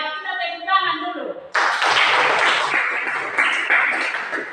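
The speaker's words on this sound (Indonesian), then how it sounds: "Yang kita tepuk tangan dulu." After a spoken line, students in a classroom break into a burst of hand clapping that stays fairly close and continuous until the end.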